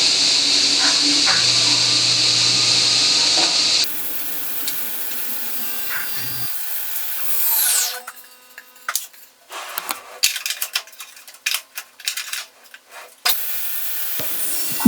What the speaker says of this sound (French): à la scie circulaire.